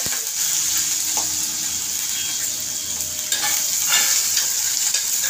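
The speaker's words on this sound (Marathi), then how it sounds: "थोडंसं हिंग, मिरची जरा हे झाली की आपल्याला कांदा टाकायचा" Onion frying with asafoetida, chilli and curry leaves for a Maharashtrian potato bhaji, a loud dense hissing sizzle that runs without a break, with a few faint stirring scrapes, close and unaccompanied by talk.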